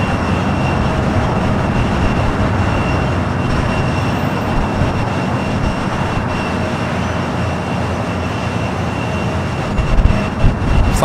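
An Aerologic cargo jet arriving from Hong Kong at Los Angeles airport gives a loud, steady broadband engine rush throughout, swelling slightly near the end, with no talk.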